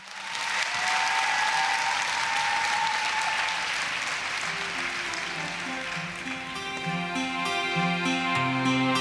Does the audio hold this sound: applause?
yes